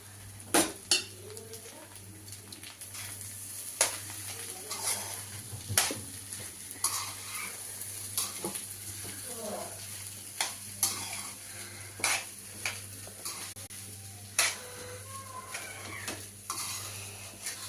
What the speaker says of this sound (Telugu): వేడి వేడి ఎగ్ ఫ్రైడ్ రైస్ ఇప్పుడైతే వేసేసుకుంటున్నాం